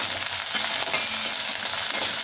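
Ginger garlic paste with a little salt fries in a hot pan, giving a steady, close crackling sizzle with faint stirring scrapes and no talking.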